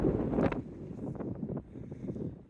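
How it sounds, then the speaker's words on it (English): Headwind buffets the microphone on an exposed coastal bike ride toward Cape Wrath, a low rushing roar in uneven gusts with a stronger burst at the start, heard alone. "Greeted by a headwind"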